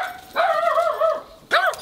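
A dog close by lets out two drawn-out, whiny barks, the first long and wavering and the second short and sharp, with no talk over them.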